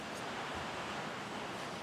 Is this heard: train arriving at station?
no